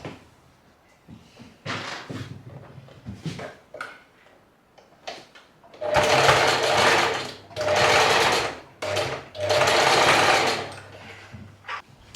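A sewing machine running an edge seam along a fabric strap for a waist tie top, with soft handling clicks at first, then three loud close bursts of rapid stitching separated by brief pauses.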